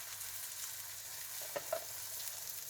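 Pancake batter frying on a buttered griddle, a steady soft sizzle throughout with a couple of faint clicks partway through.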